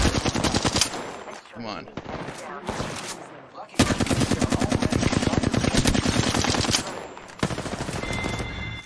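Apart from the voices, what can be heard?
gunfire from the Halo video game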